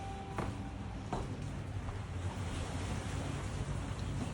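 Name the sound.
ocean waves by Maldives overwater villa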